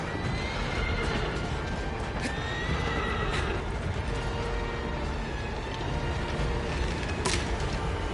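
A horse in the video game Shadow of the Colossus whinnies and neighs loudly over a constant thunder of galloping hooves and dense game noise, with no talking.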